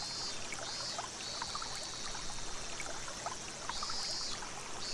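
Steady flowing stream from the Higurashi When They Cry visual novel, gentle babbling water trickling continuously at moderate volume, with a thin high insect chirr fading in and out above it.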